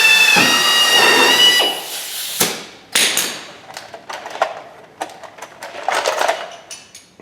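A loud power drill whirs steadily while drilling holes in a car body for body mounts, then stops with a thud, followed by short bursts of drilling and clattering metal, close by.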